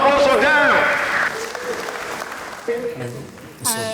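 A group at a speed dating event clapping for a young couple, a short burst of applause mixed with lively chatter and voices that soon take over as the clapping fades.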